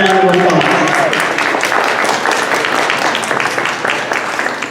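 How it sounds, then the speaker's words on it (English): An audience claps for jazz band performers at a college open mic, a loud burst of applause with individual claps audible, and a voice speaks briefly at the start. "give them a big round of applause"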